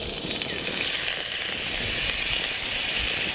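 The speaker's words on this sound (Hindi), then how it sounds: "सबसे पहले हमने चर्बी डालनी है इस कढ़ाई के" Lamb dumba fat sizzles in a karahi, giving a steady close hiss with fine crackle that stays even throughout and has no voices over it.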